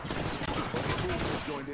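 Rapid gunfire in the battle royale game Apex Legends, dense overlapping shots close by, with in-game voice chatter layered beneath the steady volley.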